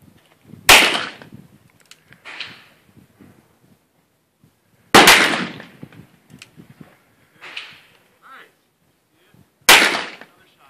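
Gunshots at an outdoor shooting range, three sharp, loud cracks spaced several seconds apart, each followed by a fainter echoing report, with quiet handling noises between them.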